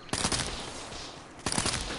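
Two rapid bursts of automatic gunfire in Black Ops III, each a quick rattling volley, separated by a short gap filled with lingering echo.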